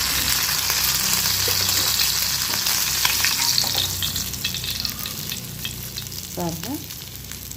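Fish pieces fry until crispy in oil, producing a loud, close, constant sizzle and bubbling that eases slightly toward the end, with brief scraping and a few spoken words.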